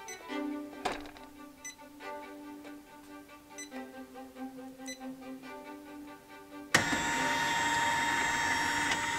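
A sewing machine winds a bobbin, first as a quiet tonal whir with a few clicks and knocks, then switching to a louder, steady high-pitched spinning hum.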